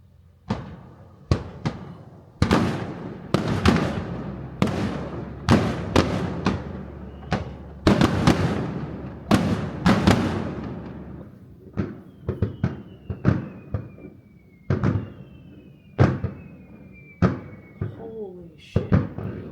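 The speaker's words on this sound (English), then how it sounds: "Just waiting on the fireworks now." Fireworks display in Japan, a long series of booming bursts and crackling explosions at an irregular pace, some whistling rockets rising between them, loud and fairly close, with scattered exclamations from onlookers mixed in.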